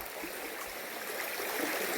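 A forest waterfall feeding a stream in the Istranca woods near Vize rushes in a continuous, close, bright wash of flowing water, with no voices.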